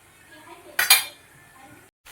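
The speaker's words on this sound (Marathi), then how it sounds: "आता ह्याला फक्त 2 मिनटं स्टर करून घेऊया आपण" A metal utensil clinks and scrapes against a pan while thick Kolhapuri-style vegetable gravy is stirred, with a short burst of clattering near the middle, then quieter faint kitchen noise.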